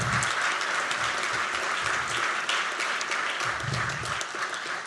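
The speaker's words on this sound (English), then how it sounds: "So please give yourselves a round of applause." Applause from a crowd at a university public policy school ribbon-cutting ceremony, a dense, steady clapping that holds for the whole stretch, with faint voices underneath.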